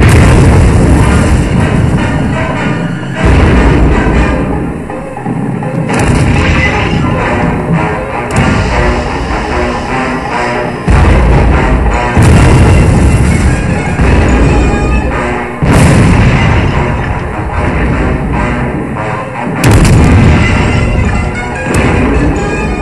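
Repeated heavy explosions and a rocket salvo from a Thomas and Thunderbirds parody set near a gas-filled place, loud booming blasts arriving in bursts every few seconds with rumbling crashes between them.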